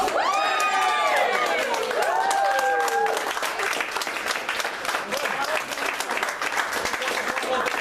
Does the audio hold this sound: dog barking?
no